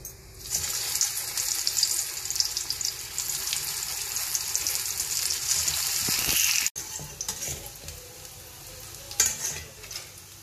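Stuffed spiny gourd (kakrol) fries in hot oil, giving a loud, steady, close sizzle that cuts out sharply for a moment partway through, then resumes with a few pops and stirring sounds.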